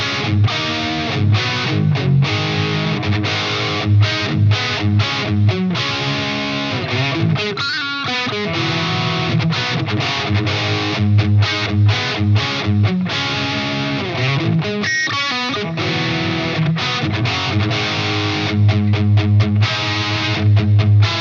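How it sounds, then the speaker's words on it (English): An electric guitar played through a distortion pedal into a clean amp channel gives a loud, heavy, saturated tone with steady chugging chords and rhythmic accents that play alone throughout. "it creates the distorted heavy sound on its own, so you don't need to distorted amp."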